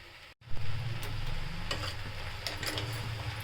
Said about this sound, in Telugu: ఇలా కలుపుకోవాలండి